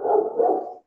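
A dog gives one short, fairly loud bark of under a second, heard alone without talk or other noise.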